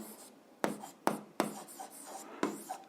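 Numbers being handwritten on paper during a fifth-grade maths exercise: four distinct pen strokes, tapping and scratching in short bursts, close and quiet with no talk.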